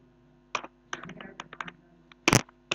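Typing on a computer keyboard in short irregular bursts of key clicks, with a louder cluster of strokes near the end, close and fairly quiet with no talking.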